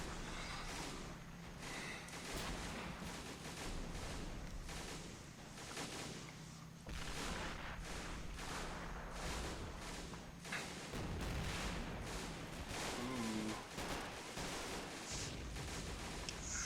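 White phosphorus and gunfire in a war video game, a dense, loud wash of explosions and shots with repeated sharp bursts over a steady rumble, heard throughout with no talk.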